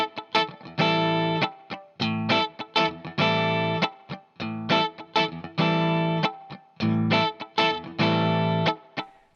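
An electric guitar with effects and slight distortion strums a choppy 16th-note rhythm, with short muted strokes between ringing chord hits, close and loud, no talking.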